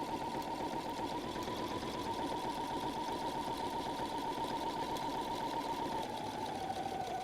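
A sewing machine stitches a pocket onto a messenger bag, giving a steady, close, moderately quiet rapid mechanical chatter that runs unbroken throughout.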